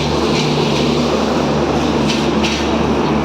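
A train rolls steadily through Chatmohar railway station in Bangladesh, a loud, continuous close-range rumble with a low hum and faint metallic hiss throughout, no voices over it.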